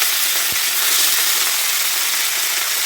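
Beans and chopped cabbage leaves fry in hot oil for a Bengali dry cabbage and peas curry, producing a loud, dense, unbroken sizzle up close with a couple of faint knocks.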